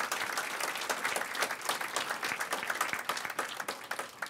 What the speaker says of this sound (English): Let's give her a big round of applause for that alone.